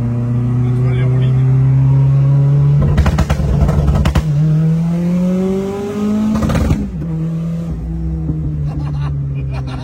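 A Renault 5 Turbo rally car's engine revs under close talk, with rising and falling tones and two sharp louder surges from the car in an urban rally setting.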